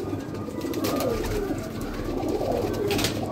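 Madrasi pigeons coo in a loft, a run of low, throaty, rolling calls repeating close by over a steady background hum.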